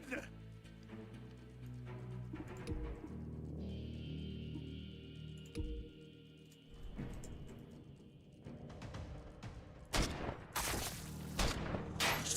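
Gunfire from a turn-based combat video game demo: a few sharp, loud shots clustered near the end, after stretches of game music and talk.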